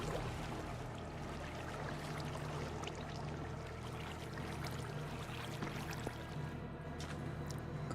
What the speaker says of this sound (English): The water's still flowing there.